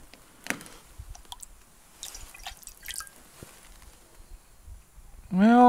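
Bacardi rum poured onto a plate of water outdoors at -40°F, heard as a few sparse, quiet drips and small liquid clicks in near silence, ending with a short voiced sound.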